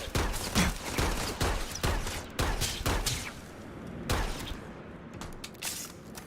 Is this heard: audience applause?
no